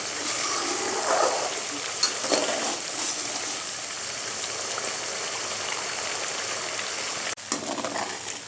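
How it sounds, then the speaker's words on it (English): Butter simmering with a few drops of added water in a pan while ghee is made, giving a steady bubbling sizzle throughout with no talk over it. "I have added water now and will cook for 2 or 3 minutes more to just burn the water"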